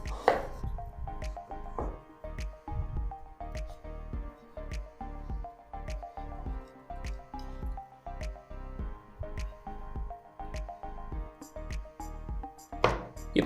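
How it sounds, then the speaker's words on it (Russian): A knife cuts an avocado into quarters and strips its skin in a kitchen, making a series of soft, regular squishy taps and slices up close, with a sharper clack at the start and end. "Авокадо разрезаем на 4 части и убираем шкурку."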